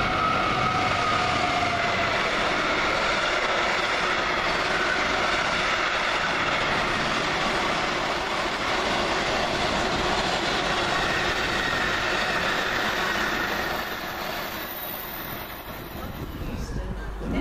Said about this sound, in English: let's get things started with a freight train. This is 66002 for DB Cargo